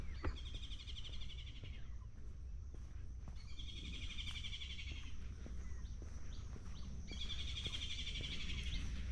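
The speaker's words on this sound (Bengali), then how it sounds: "পাখির ডাকটা শোনানোর চেষ্টা করলাম, জানি না কতদূর ধরা পড়লো ক্যামেরায়।" In a bamboo grove, a bird gives three repeated high, trilling calls spaced a few seconds apart, fairly faint against a steady low background hum.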